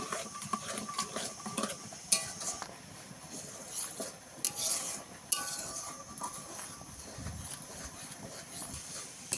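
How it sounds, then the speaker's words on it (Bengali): Steady stirring of a mixture in a pan over a low-flame clay stove, with soft scraping and clinking of a utensil against the pan continuing throughout at moderate level, no talk. "এবার এটাকে ভালো করে অনবরত নেড়ে যেতে হবে"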